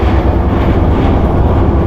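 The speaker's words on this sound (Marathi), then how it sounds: "ए सी ट्रेनचा प्रवास" A steady, loud rumble of a moving air-conditioned train heard from inside, with constant low-frequency drone and no talking.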